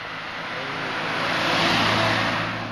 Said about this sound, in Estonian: Jälle auto tuleb, vaata filmime.